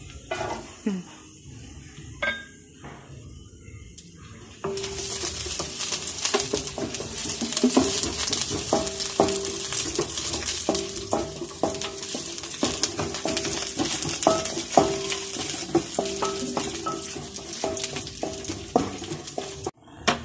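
Coconut pieces fry in a teaspoon of ghee in a pan over low heat, a dense close sizzle that starts abruptly after a few clinks, with frequent spoon-on-pan scrapes and taps throughout.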